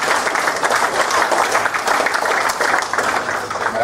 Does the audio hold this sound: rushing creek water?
no